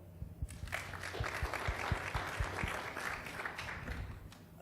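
An audience at a political awards conference breaks into applause, a steady wash of many hands clapping for several seconds with a few sharper low knocks mixed in, fairly distant.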